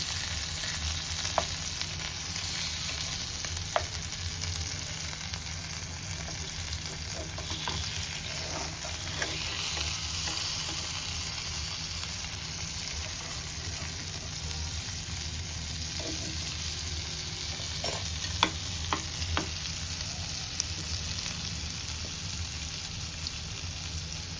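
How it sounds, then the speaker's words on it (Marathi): Surmai fish fries on a hot tawa with a steady, close sizzle that runs unbroken throughout, dotted with occasional sharp clicks and scrapes, with no voices. "आता आपली ही एक साइडने फ्राय झालेली आहे. आता आपण ही पलटून घेऊया."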